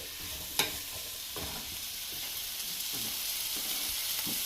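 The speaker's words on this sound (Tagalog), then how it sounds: "Haluin lang natin." Jumbo shrimps with butter and pumpkin are stirred in a hot pan, a soft continuous sizzle broken by several scraping stirs, one sharper clack near the start, heard close and quiet with no talking.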